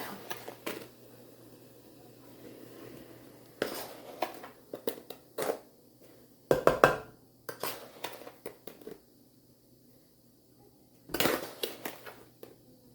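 Four cups of sugar poured into a pot of redbud jelly, giving scattered soft rustling pours and clinks of a cup or spoon against the pot, in short bursts separated by quiet stretches.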